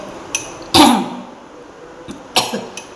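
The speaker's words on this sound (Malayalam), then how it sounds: "അമ്മയ്ക്ക് ചുമയൊക്കെ ഉണ്ട് അമ്മയ്ക്ക് ചുമയും" Two short, sharp coughs ring out, with a few faint clicks and light knocks in between in a quiet room.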